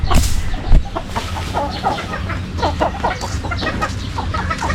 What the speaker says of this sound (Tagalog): Bantayan mo manok natin, Marga.